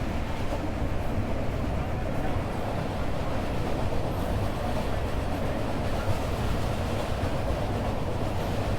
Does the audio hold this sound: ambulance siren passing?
no